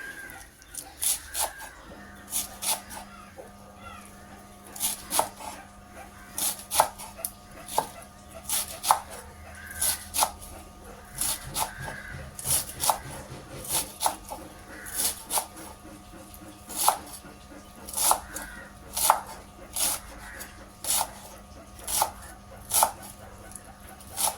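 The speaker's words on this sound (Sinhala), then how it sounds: "මේ වගේ පොඩි කෑලි වලට කපා ගන්නවා." Vegetables are chopped into small pieces on a board for an omelette, with rapid, steady knife strikes in a close, regular rhythm throughout. A faint dog bark and clucking chickens are audible in the background.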